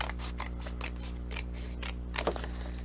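Scissors cutting across a paper Christmas card in a quick run of crisp snips and slicing strokes, close and fairly quiet over a steady low hum.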